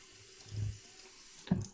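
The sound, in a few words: water running from a tap while rinsing the face after shaving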